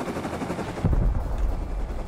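Gunfire in the survival game Rust, a rapid burst of shots over a dense, noisy background, loud and close.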